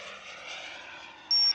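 A Boomerang Ranger V2 RC model airplane flies with its gyro off, its electric motor giving a steady, moderately loud droning whine throughout. A brief high beep cuts in near the end.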